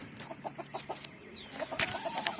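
Muscovy ducks fight, giving short repeated clucking and squawking calls, several birds close by, with scattered sharper cries toward the end.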